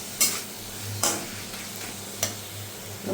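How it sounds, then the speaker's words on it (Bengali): Spice paste with turmeric and cumin powder sizzles in a pan while a spoon scrapes through it in three or four distinct, evenly spaced strokes over a soft, continuous frying hiss. "এখন একটু সামান্য জল দেবো যাতে মশলাটা পুড়ে না যায়।"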